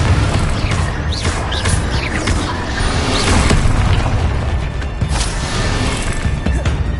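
Booming magical blasts from the Confringo fire spell in Hogwarts Legacy erupt amid constant combat noise, loud and dense with crackling impacts layered over a rumbling background.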